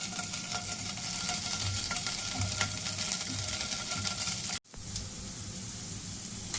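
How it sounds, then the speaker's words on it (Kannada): Paneer frying in ghee in a pan gives a close, steady sizzle with faint bubbling crackle, briefly cut off by a moment of silence before the sizzling resumes. "ಈಗ ಅದಕ್ಕೆ ಪನ್ನೀರ್ ಹಾಕಿ ಫ್ರೈ ಮಾಡ್ತಾ ಇದ್ದೇನೆ."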